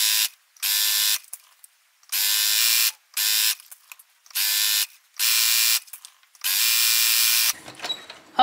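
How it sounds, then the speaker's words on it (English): A sewing machine stitches a fabric scrunchie in repeated bursts of high, buzzing running, each about half a second to a second long, separated by short pauses, up close. "and now I can continue to sew."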